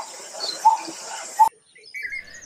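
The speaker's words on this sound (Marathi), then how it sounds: "हे पक्षी लयबद्ध ओरडतात, म्हणूनच हा तांबट" A coppersmith barbet gives two hollow, evenly spaced notes against light outdoor background noise. The sound cuts out abruptly, and faint higher chirps follow.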